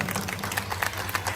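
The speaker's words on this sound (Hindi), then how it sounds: "एक बार उनके लिए आप लोग ताली बजाइए।" An audience claps for a political speaker at a rally in Delhi. The applause is brief, moderately loud and scattered, with irregular claps over a low crowd murmur.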